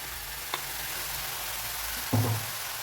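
Spinach with freshly pulsed grated coconut sautés in a pan for a pepper-tomato keerai poriyal, a low steady sizzle with two brief scrapes of a spoon against the pan.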